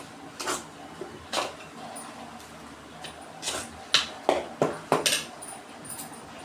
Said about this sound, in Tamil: மறுபடியும் கரண்டி வச்சு நல்லா கிண்டிக்கலாம்.